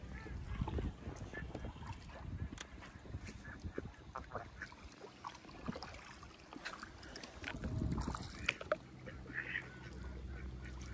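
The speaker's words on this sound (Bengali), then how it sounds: "এক ঝাঁক হাঁস" A flock of ducks on a river, heard from a boat, gives scattered quacks and honks over water and boat noise, with faint voices in the background.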